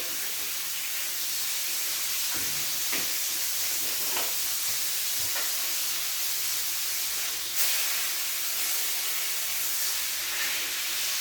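Butter and garlic sizzle in a pan alongside a charred steak, a loud, steady frying hiss close by with a few soft clinks and scrapes along the way.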